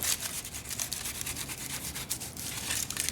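Chrome cleaner being rubbed onto foam on a Harley-Davidson motorcycle, a continuous close, scratchy scrubbing with a quick back-and-forth rhythm and no talking.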